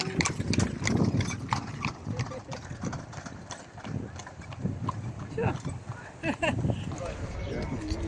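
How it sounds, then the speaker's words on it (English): Near the castle in Niš, Serbia, a horse and cart carrying children clip-clops past, steady hoofbeats plainly heard under people talking nearby, with a faint engine in the background. "there comes a horse and cart with some little kids"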